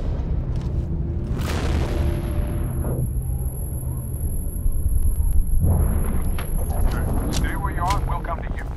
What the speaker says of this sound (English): some fuck up with a rocket launcher shot at me